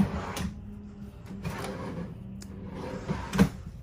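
A kitchen drawer in a 2021 Alpha Wolf 33BH bunkhouse travel trailer slides open and shut several times, giving close, rumbling runs and a sharper knock near the end.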